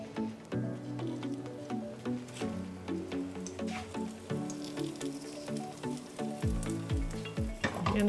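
A black bean burger fries in hot oil in a pan over medium heat, giving a steady close sizzle with light crackles and occasional scraping, with no talk.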